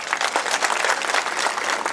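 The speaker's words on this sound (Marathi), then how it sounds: "तुमच्यासाठी एकदा टाळ्या वाजव" A crowd at a political rally claps in a brief, dense burst of applause, steady and moderately loud from start to end.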